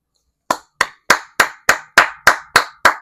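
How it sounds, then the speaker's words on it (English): Nine sharp hand claps in a steady, evenly spaced rhythm, loud and close, with silence before the first clap and no talking. "want to give a hand clap for that."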